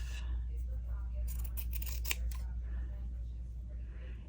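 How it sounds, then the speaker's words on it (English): Scissors cut through black linen-like fabric, a few close snipping crunches over a steady low room hum. "I think if we cut this black in half"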